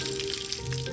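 Water poured over the uncoated door of a 1983 Toyota Trekker truck gives a steady, close hissing wash with soft trickling and no voices.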